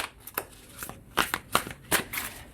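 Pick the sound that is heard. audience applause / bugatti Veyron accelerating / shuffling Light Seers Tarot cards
shuffling Light Seers Tarot cards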